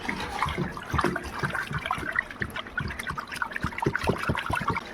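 A stick stirs a liquid mixture of agarbatti perfume and DEP oil, giving a continuous irregular sloshing and swishing close by, with no talk.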